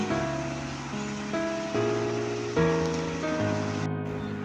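Ginger garlic paste sizzles in a pan while being stirred, a dense steady frying hiss with bursts of bubbling and low scraping clatter throughout, close and fairly loud.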